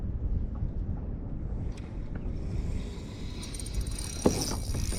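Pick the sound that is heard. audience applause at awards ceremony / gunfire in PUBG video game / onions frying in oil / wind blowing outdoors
wind blowing outdoors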